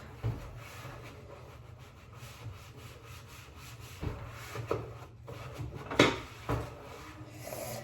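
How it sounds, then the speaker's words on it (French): Cutlery being put back into a kitchen drawer, heard as soft rubbing and sliding scrapes with a few sharper clinks and knocks near the end, close by, with no voices. "Je vais juste faire du bruit pour remettre les couverts là-dedans."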